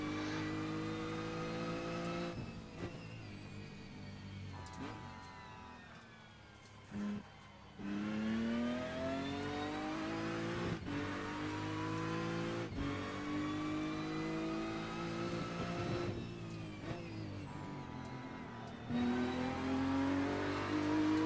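A GT3 race car in a racing game laps the Nordschleife, its engine revving hard through repeated upshifts and downshifts with rising and falling pitch, loud and continuous, with a few brief tyre squeals.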